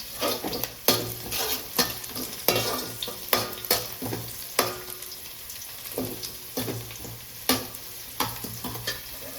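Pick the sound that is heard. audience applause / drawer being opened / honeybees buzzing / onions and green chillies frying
onions and green chillies frying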